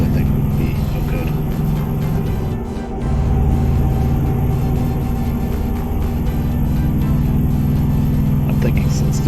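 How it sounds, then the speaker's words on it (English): A truck engine in American Truck Simulator drones steadily and loudly throughout, a low continuous hum with a brief dip in level partway through. "the truck is pretty loud"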